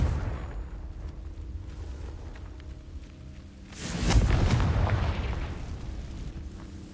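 A Confringo fire spell bursts into dry vines in Hogwarts Legacy: after a quiet stretch, a loud whooshing blast erupts and flames roar on, dying down slowly.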